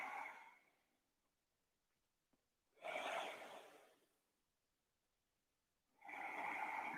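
Slow, deep breaths during a family yoga session, three soft airy bursts spaced about three seconds apart, each a gentle inhale or exhale heard close and alone with silence between.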